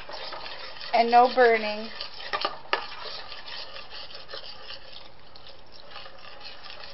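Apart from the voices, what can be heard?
stirring mac and cheese sauce in pot on burner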